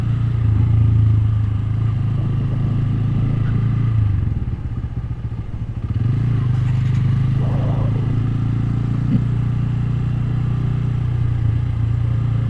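Motorcycle engines drone loudly and steadily along the 300 ft road, a close, continuous rumble that briefly drops and clatters midway before resuming.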